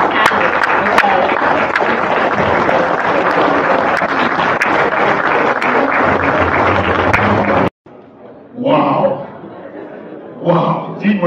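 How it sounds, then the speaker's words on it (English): Town hall audience applauding its panelists: a long, loud, dense burst of clapping mixed with chuckles and chatter, then cutting off into quieter murmuring with scattered laughter. "I think everybody should be up and applauding our panelists."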